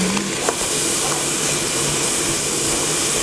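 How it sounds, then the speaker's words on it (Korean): Food stir-frying in hot oil for an Indonesian dish, a loud, continuous broad sizzle and hiss with faint clanks, close up and with no talking. "기름 넣고 지금 바로 그냥 볶는 거지"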